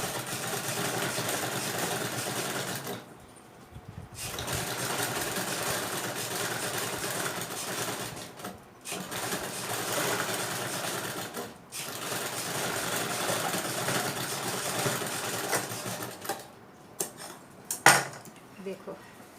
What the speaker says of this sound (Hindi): अब हमें ये पीछे वाली जो तार है उसे डबल सिलाई लगा के बिठा देते हैं